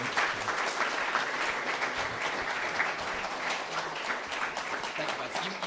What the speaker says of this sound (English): Can I get a big round of applause in the front store for Jack and Rachel?